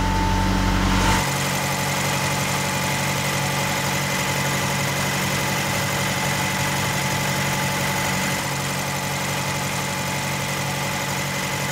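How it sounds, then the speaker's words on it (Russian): Car engine held at warm-up idle of about 1500 rpm during a check for bubbling in the coolant expansion tank, a steady close drone running unbroken after a brief louder burst at the start. "Включаем прогревочные обороты"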